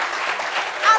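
Studio audience applause at a talk-show style gathering, a short burst of many hands clapping, fairly close and even, with a voice briefly sounding over it near the end.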